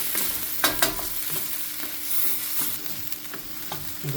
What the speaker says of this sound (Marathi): ऑनियन सारको फायन चॉप केला हांवें ते मातशें सोते जावन बरें भाजून घेता